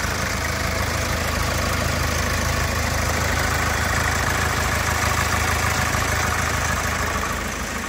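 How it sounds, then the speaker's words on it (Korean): A Kia Sportage SUV idles steadily with its engine bay open, a constant close mechanical hum and faint ticking that stays level throughout with no talk. "엔진 소리 여기까지 들어봤고요."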